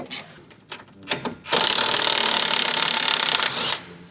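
A nut is unscrewed on an Abarth 500 with a power tool: a few short clicks and knocks, then a loud, steady whirring burst of about two seconds that winds down at the end.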